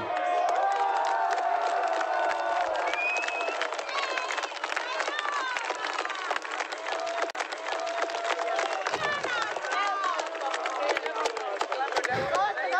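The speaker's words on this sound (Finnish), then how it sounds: "Antakaa aplodit Paapolle." A festival rock-show crowd at Simerock 2008 in Finland cheers, whoops and applauds loudly and steadily throughout, dense and continuous with scattered shouts rising above the roar.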